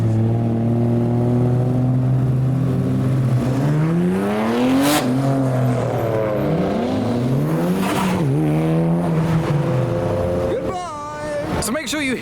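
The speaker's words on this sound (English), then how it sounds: "I need to head to the exit, film the cars leaving." Modified Japanese cars drive out of a Japanese car show at Santa Pod, passing one after another. Loud engine notes rev and shift pitch as each car goes by, and a final car accelerates hard with a sharp rising rasp near the end.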